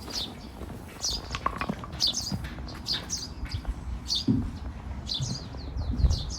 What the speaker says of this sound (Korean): 조금씩 들려오는 새소리도 참 인상 깊은 곳이었습니다